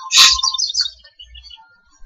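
A cuckoo in the Syberia video game lets out a sharp, loud chirp followed by a few softer twittering notes that fade into near silence.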